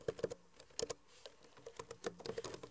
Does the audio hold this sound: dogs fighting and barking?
no